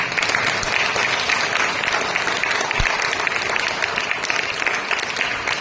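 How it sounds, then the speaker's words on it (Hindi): A church congregation claps loudly and continuously, dense overlapping applause filling the room for several seconds, with no voices standing out. "प्रभु को जोर से ताली बजाएंगे इसके लिए।"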